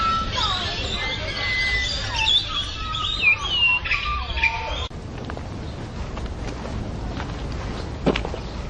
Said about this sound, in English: And the birds are wonderful.